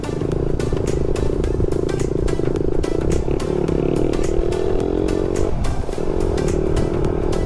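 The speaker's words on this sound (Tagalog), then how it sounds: "Pag re-review lang natin ng Apido na power pipe." A Suzuki Raider R150 motorcycle fitted with an Apido power pipe exhaust rasps along on a test ride, loud and close with a buzzy, crackling engine note that climbs and holds steadily throughout.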